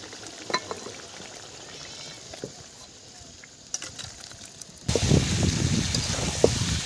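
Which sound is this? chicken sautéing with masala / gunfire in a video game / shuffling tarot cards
chicken sautéing with masala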